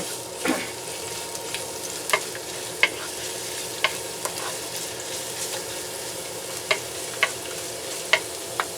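Garlic fries in oil at the start of a sauté for pork hocks kare-kare, a steady hiss of sizzling with frequent sharp crackles and pops scattered throughout, no voices.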